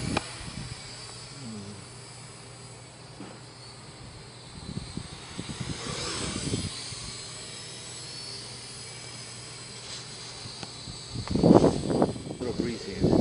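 A steady buzzing drone of small quadcopter rotors hovers outdoors through the whole stretch, with wind gusts and brief bumps rising near the end.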